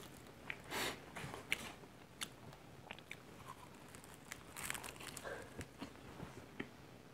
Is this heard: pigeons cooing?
no